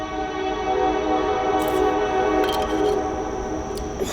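A train passes nearby with a steady, loud rumble and a sustained tonal drone, with a few brief higher squeals near the end and no talk.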